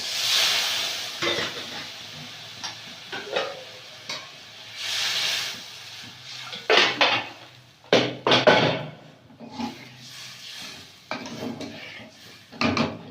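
Water poured into a hot pan of poppy seed paste for a Bengali pabda fish curry in a village kitchen, loud hissing sizzle in bursts with stirring and clattering utensils, no talk.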